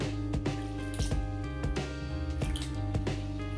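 Soaked yellow lentils rubbed and washed by hand in a bowl of water, a close series of wet squishing and sloshing strokes repeating irregularly, with no talk.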